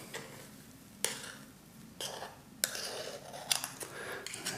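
Chocolate mousse scooped from a bowl into small ramekins, soft scraping and a few sharp clinks of a spoon against dishes, close and quiet.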